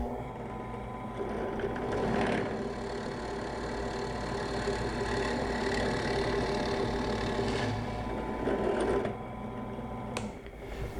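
A drill press runs steadily while drilling through clamped material, giving a continuous mechanical whir at a near, even level for most of the stretch, then easing slightly toward the end.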